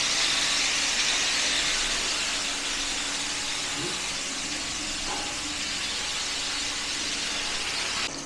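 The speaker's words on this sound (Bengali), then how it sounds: "হালকা গোল্ডেন কালার করে ভেজে নেব।" Eggs shallow-frying in oil in a pan for a Bengali egg posto curry, a steady dense hiss of sizzling fat running evenly throughout with a couple of brief faint squeaks, no talking.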